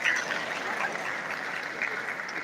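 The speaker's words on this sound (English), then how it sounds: "please a round of applause for yourselves" Newly qualified doctors at an induction ceremony applaud themselves, a steady, moderately distant wash of clapping from a crowded hall that holds evenly throughout.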